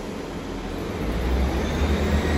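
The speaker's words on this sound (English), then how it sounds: "D-delayed 1005 Great Western Railway service from Cardiff Central to Portsmouth Harbour" Great Western Railway train at Southampton Central station, a steady low rumble of the train in motion that grows slightly louder, with a constant high whine above it.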